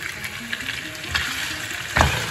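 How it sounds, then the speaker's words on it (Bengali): Paneer sizzles and spits steadily in hot oil in a pan close by, with a couple of brief scraping stirs over the continuous frying hiss. "পনিরটা আমি ভাজছি"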